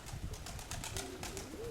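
Domestic fancy flying pigeons coo in a low, throaty rhythm, several soft repeated calls close by with faint rustling and no talk.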